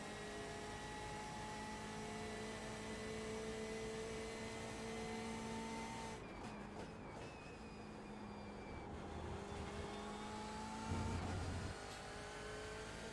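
Race car engine of a BMW M8 GTE in iRacing on Road America, a steady loud drone that drops and changes pitch partway through, then climbs again with a brief louder burst near the end; no talking.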